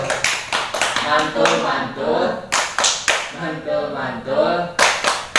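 A group at a PKH family-development session performs the rhythmic 'tepuk mantul' clapping routine, with sharp, evenly spaced bursts of claps mixed with chanting voices.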